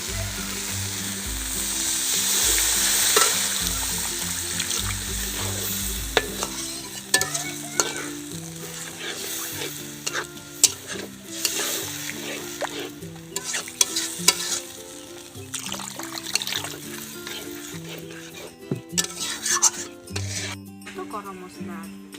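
Egg curry masala cooks in a pan after water is poured in, a steady sizzle and bubbling with frequent stirring scrapes and clinks, close-up, with faint background music.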